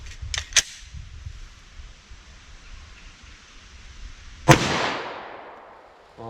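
Gunfire from 10mm and .357 Magnum pistols firing Underwood hard cast rounds: two quick, fainter cracks at the start, then one loud, close shot with a long, ringing decay.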